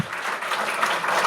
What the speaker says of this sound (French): On peut applaudir Sophie